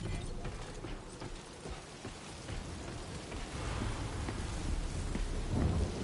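Timefall rain pours steadily in the video game Death Stranding 2 while low thunder rumbles beneath it, building toward a heavier roll near the end. The whole storm stays dense and continuous with no voices.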